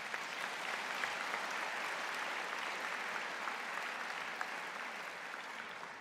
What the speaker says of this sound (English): Would you please join me in a round of applause to welcome the platform party?